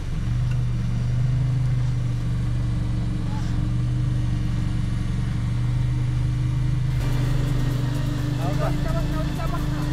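A Mazda MX5 sports car engine drones steadily at low revs as it crawls off-road along a rough village path, a constant close rumble with a slight shift in tone near the end.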